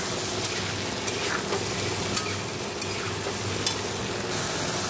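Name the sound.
spice paste of cumin, coriander, chilli, turmeric frying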